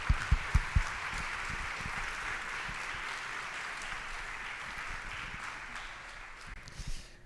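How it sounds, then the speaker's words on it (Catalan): A crowd applauds steadily at the Corpus de Sitges 2026 presentation, a dense wash of clapping that continues throughout, with a few sharper claps at the start. "us volia demanar que m'acompanyéssiu en aquest aplaudiment global"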